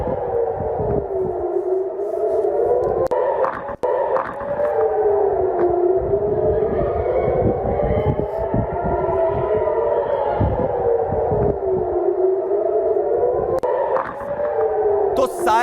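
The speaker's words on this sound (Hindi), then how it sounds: "तो सायरन बज रहे हैं लगातार" Several air raid sirens wail continuously in Israel during a missile attack, their pitches rising and falling in overlapping sweeps, loud and sustained, with voices faintly underneath.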